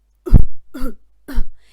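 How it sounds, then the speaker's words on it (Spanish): Three harsh, barking coughs in quick succession, close and loud, with short pauses between them. "es una tos tipo, como vulgarmente decimos, perruna"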